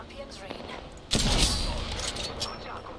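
A Kraber sniper rifle fires in the Apex Legends video game, one heavy booming shot with a long rumbling tail over busy game noise, while a player talks before it.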